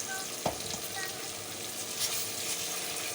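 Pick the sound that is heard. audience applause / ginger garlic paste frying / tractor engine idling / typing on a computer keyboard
ginger garlic paste frying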